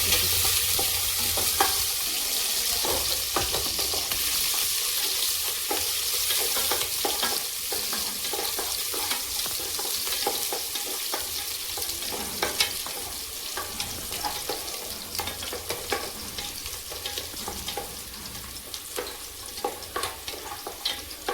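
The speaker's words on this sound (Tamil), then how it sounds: "நல்லா கொஞ்ச நேரமாக நல்லா வதக்கிக்கணும்" Small shallots sautéing in a pan for country chicken curry give a constant loud sizzle, with frequent scraping stirs of a spoon against the pan throughout.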